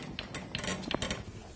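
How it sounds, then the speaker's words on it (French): A small ratchet with a Torx bit loosens a screw on the front brake of a Smart Fortwo, quick close clicks of the pawl in short irregular bursts, fairly faint. "cette vis Tox à l'aide d'un petit cliquet et d'un embout Tox"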